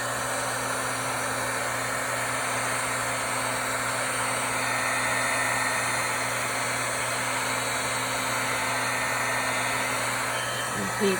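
A heat tool gently warms a Tim Holtz collage paper tag, giving off a steady, loud blowing whir with a constant hum that runs unbroken the whole time.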